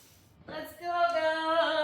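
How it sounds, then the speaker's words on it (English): A pressure washer starts up beside an old asphalt driveway, its steady, buzzing, tonal whine coming in abruptly and holding close and fairly loud. "So let's get pressure washer going and see what"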